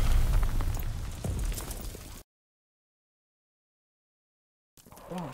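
Explosions from German grenade launchers shelling a beach in the World War II shooter game Call of Duty WWII, a loud, heavy rumbling blast that cuts off abruptly into silence, then another rising burst.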